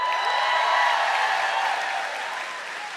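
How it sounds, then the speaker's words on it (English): Sustained crowd applause at a political rally in Altoona with Bernie Sanders, a dense wash of clapping that stays loud for about three seconds before easing slightly. "You guys can't clap at everything."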